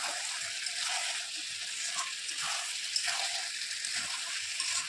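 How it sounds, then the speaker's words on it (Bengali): Potatoes frying in a pan alongside meat being browned, giving a constant close sizzle with gentle recurring swells as the food is stirred. "কষানো হচ্ছে, আর এদিকে আলুটাও ঢেলে দিচ্ছি, সেদ্ধ হবে ভালো করে।"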